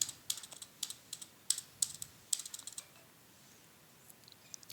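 Fast clicking on a computer keyboard as data is entered in Tally Prime accounting software, with Enter pressed along the way. The taps come in quick, irregular bursts, close and fairly quiet, and then thin out.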